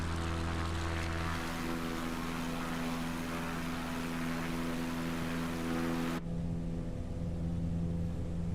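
X Cub Tundra propeller engine in Microsoft Flight Simulator, a loud steady droning buzz with strong harmonic tones, running continuously and shifting to a different pitch and tone partway through, no voices over it.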